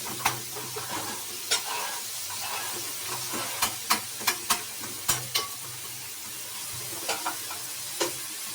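Onions fry in a pan for a drumstick and tomato curry, a steady sizzle overlaid by sharp scraping clicks from stirring, each stroke scattered irregularly and standing out close and crisp.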